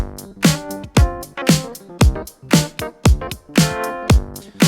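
A punchy, repeating groove of plucked keyboard chords and a deep bass riff, with sharp rhythmic hits at a steady tempo.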